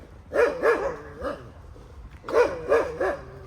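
A dog barks in two bursts of about three sharp barks each, fairly close, with a short gap between bursts and no talking, heard outdoors on a walk.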